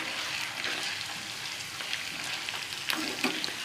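Constant close sizzle of onion, garlic and ginger frying in oil, with soft crackles and occasional stirring scrapes, no talking.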